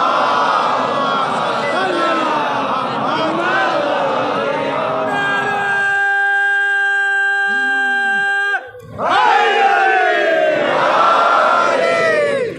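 A crowd at a Shia majlis chants together in loud unison, voices massed and sustained, then cuts briefly before a second loud collective burst resumes near the end.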